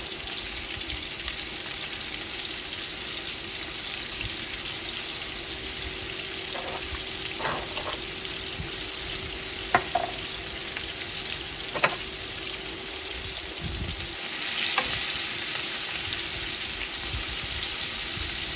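Pot roast meat seasoned with black pepper browning in a hot pan, giving a steady broadband sizzle throughout with a few light utensil clicks and a brief surge in intensity near the end; no one talks.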